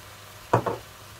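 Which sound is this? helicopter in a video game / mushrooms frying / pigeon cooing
mushrooms frying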